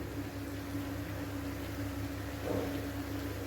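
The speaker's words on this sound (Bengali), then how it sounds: "এইভাবেই আমি সব চপগুলা ভেজে নেব" Raw banana chops frying in hot oil in a home kitchen, giving a steady, low sizzling hiss with faint bubbling that swells briefly toward the end, continuous and without talk.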